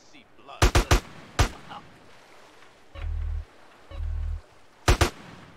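A quick double shot, a third report, then a lone shot, with a later pair of sharp reports, all from GTA San Andreas. Low engine-like drones sit between them and faint background activity runs under the bursts.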